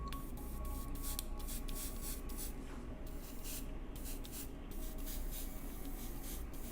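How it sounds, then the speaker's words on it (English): An airbrush sprays fixer over weathering pigments for desert dust effects, giving a soft, steady hiss broken by short airy bursts, close and quiet. "Same thing with the airbrush with the fixer."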